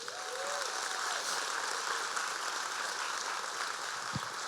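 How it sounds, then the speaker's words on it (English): Audience applause at a charity breakfast honoring the Legal Aid Society of the Orange County Bar Association, steady, fairly faint clapping from a large room that sustains evenly throughout. "let's give the Legal Aid Society a round of applause"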